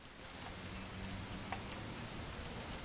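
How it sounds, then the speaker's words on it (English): Steady rain in a video game setting, a soft, even wash of falling drops that holds unbroken throughout with no voices over it. "It's gonna rain the whole weekend"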